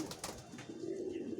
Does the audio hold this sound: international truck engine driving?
no